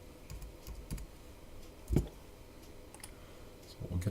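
Keys tapped on a computer keyboard while test credit card details are entered into an online order checkout, with scattered quiet clicks and a few louder keystrokes in short bursts, no talking.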